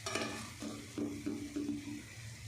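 A spoon stirs cooked degi zarda mutanjan sweet rice in a pot, giving a few soft scraping strokes in a slow rhythm over a low background hiss.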